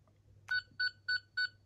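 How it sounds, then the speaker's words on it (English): Four short, identical electronic beeps from a toy Fourteenth Doctor sonic screwdriver sound in an even rhythm, close and clear, after a faint click. "you get 4 beeps"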